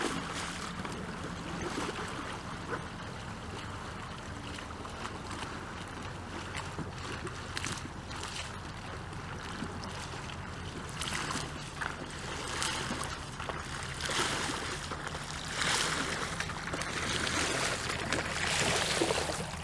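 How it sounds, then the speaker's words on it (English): Raft paddle strokes in open water, soft splashing and swishing that grows slightly louder and busier toward the end, heard alone against a faint outdoor wash of wind and water. "I'm just gonna paddle back and forth."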